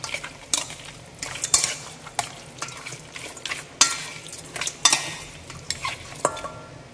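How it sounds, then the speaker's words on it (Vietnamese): Utensil scraping and clinking against a bowl while stirring marinated chicken, with irregular taps and swishes, close up and without talk. "Rồi bây giờ mình sẽ trộn đều lên."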